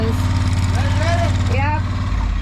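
A garden tractor engine runs at a steady, close idle-like drone during morning farm chores, with people talking over it throughout.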